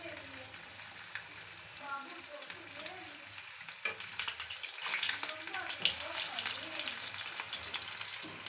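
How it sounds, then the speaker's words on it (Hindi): Potato slices frying in smoking-hot oil in a pan, a steady close sizzle and crackle with bursts of popping, while someone talks over it. "हम इन आलू को फ्राई कर रहे हैं"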